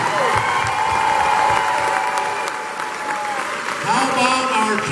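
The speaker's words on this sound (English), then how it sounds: "Let's give it up for our band who made the trek all the way from Ypsilanti." An audience applauds loudly and continuously for the visiting Eastern Michigan University marching band at a bowl game, with scattered cheers and an announcer speaking over the clapping.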